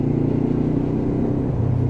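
Lexmoto LXR 380cc motorcycle engine droning steadily while under way, a continuous close low rumble at a fairly even pitch for a couple of seconds, with no voice over it.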